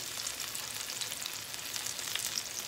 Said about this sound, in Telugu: మీడియం ఫ్లేమ్లో పెట్టుకుని ఫ్రై చేసుకోవాలండి.